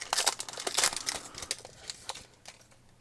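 The crinkly foil wrapper of a 2021 Topps Star Wars Battle Plans trading card pack is torn open and crumpled close up, with soft rapid rustling and tearing bursts that gradually ease off.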